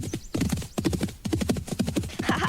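Horses gallop in a fast, steady clip-clop of hooves close by after a race beside a lake, with a brief whinny woven into the rhythm.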